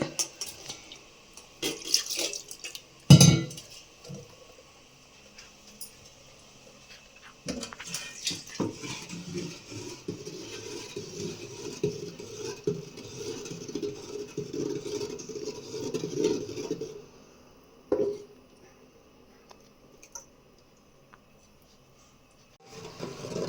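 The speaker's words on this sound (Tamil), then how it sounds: "பாருங்கள், மாவு ஊற்றிட்டேன் நொய்யில்." Flour batter is poured into a pot of cooking broken-rice porridge for a home Aadi festival offering, making a long wet sloshing pour and stirring sounds, with a sharp knock before it and another after.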